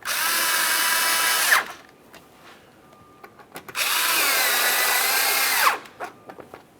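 A power drill runs in two sustained bursts, each about a second and a half and the second longer, driving 7mm-headed mounting screws beneath the front bumper cover of a 2017-2024 GMC Acadia, with quiet handling noises in between.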